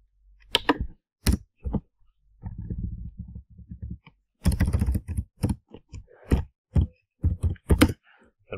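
Bursts of computer keyboard typing while SQL commands are entered, with clustered keystrokes and short pauses between runs, close and fairly loud with no talk.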